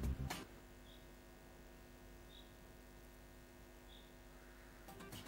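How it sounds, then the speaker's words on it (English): In the Roblox game Driving Simulator, an electric pole near the north side of the highway gives off a steady low mains-style hum with a faint buzz, joined by three soft high chirps spaced over a few seconds. "but actually it was come from this electric pole."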